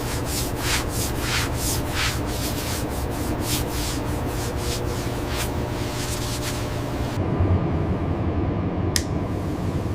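The emerald body of the Twilight Express Mizukaze luxury train gets its final polish in the factory: a steady, close rubbing and buffing swish with repeated sweeping strokes, lasting about ten seconds with no voices.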